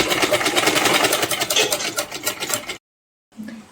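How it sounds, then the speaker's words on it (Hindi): A sewing machine stitching lace onto a frock, a fast, loud whirring rattle that runs for under three seconds and stops abruptly, followed by silence and a brief faint sound. "इस वाली लेस के ऊपर हम चारों तरफ से सिलाई चलाएंगे"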